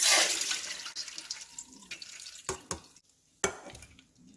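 Water drains off soaked urad dal, starting as a close splashing pour that fades into scattered trickles, drips and light clinks, with no talk.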